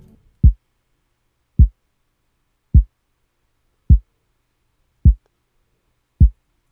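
Six low, deep kick drum thumps land at a slow, steady pace in an Afrobeats remake, each short and punchy, alone with nothing else playing.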